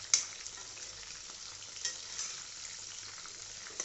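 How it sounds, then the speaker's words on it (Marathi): Prawns frying in a pan, a faint, steady hiss of sizzling oil with a few soft crackles and spatters, heard alone at low level throughout. "त्याला लाल येतपर्यंत फ्राय करून घेऊ"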